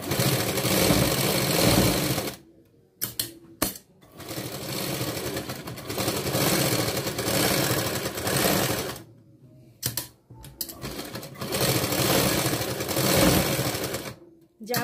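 A sewing machine runs loud and steady while stitching a princess-cut blouse with a quarter-inch seam margin, in long whirring runs broken by short pauses and clicks.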